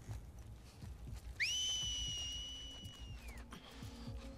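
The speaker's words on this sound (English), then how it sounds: "not an alert whistle" An alert whistle in the video game The Last of Us Part II: a single clear, high whistle rises sharply and holds for about two seconds before sliding down, over a low background rumble.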